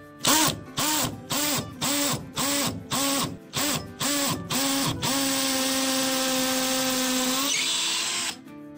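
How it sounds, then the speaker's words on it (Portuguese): A cordless drill bores into solid brick in a series of about ten short, loud pulsed whirring bursts, then runs in one sustained whine for a few seconds before stopping, with no voices. "agora eu vou fazer um furo aqui no tijolo maciço"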